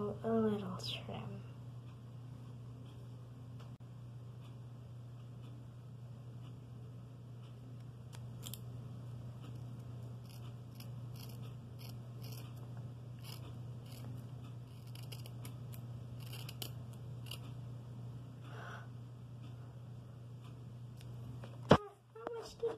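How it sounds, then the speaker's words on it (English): Scissors trim hair in a salon, with quiet intermittent snips and clicks sounding close under a steady low hum, while people talk softly in the background. "What are you doing with those giant scissors? Just giving you a little trim."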